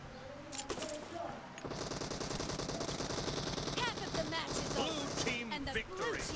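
Automatic gunfire from a mobile shooter video game team deathmatch, with dense, continuous rapid bursts filling the whole stretch; a voice talks over the shooting.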